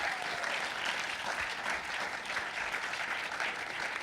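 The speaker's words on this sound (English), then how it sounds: "Give a round of applause for the panel." Steady audience applause for a panel at a music conference, a dense, even wash of clapping that holds at a moderate level for the whole stretch with no talking.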